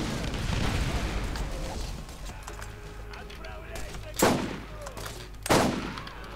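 Gunfire in the video game Borderlands, with two sharp loud shots standing out over game ambience and scattered firing, while someone talks throughout.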